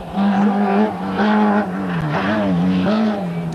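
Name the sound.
rally car engine accelerating hard, Rally Isla de Gran Canaria 1997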